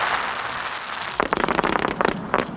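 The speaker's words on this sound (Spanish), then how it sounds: "con estos fuegos artificiales en esta noche, con esta inauguración de las luminarias" Fireworks burst at night over the Rafael Mendoza Castellón stadium for the inauguration of its lights, a fast, loud run of crackling pops that starts after a stretch of steady noise.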